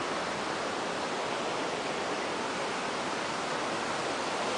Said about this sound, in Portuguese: Cuidado aí, gente, essa praia é perigosa. Hoje a ondulação está muito forte.